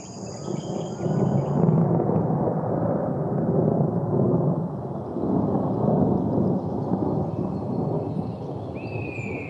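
Deep, rolling thunder rumbles in waves over a steady background, with faint insect chirping and some light rain, no voices present.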